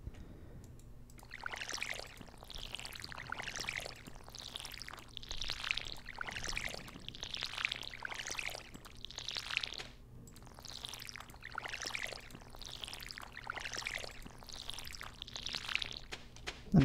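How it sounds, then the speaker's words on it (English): A watering can pouring onto crops in the farming game Stardew Valley, a series of about a dozen evenly spaced splashing pours, each a short rushing burst, repeating steadily over a faint low background hum. "I need to water the plants."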